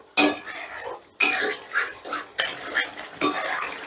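Metal spoon scraping and clattering against a pan while spice paste with cashews is stirred, a run of close, loud strokes and knocks with short pauses between them.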